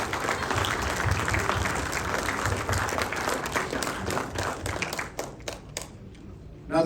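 A seated audience gives sustained applause to veterans' family members, a dense wash of clapping that thins into a few scattered separate claps near the end, with faint voices mixed in.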